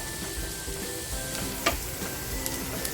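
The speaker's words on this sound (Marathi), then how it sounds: "कांदा थोडासा आपल्याला लालसर करून घ्यायचा आहे कुकर थंड होतोय तोपर्यंत आपली फोडणी तयार होईल" Onion frying in tempering oil for a spicy vazri masala, giving a steady close sizzle with a brief sharper crackle midway and no talking.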